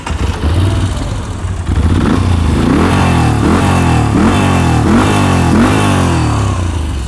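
A Moto Guzzi V7 Stone Special Edition with a transverse 90-degree V-twin, Arrow exhaust and remapped ECU starts and revs. Loud, close, deep rhythmic thumping pulses follow a brief cranking start.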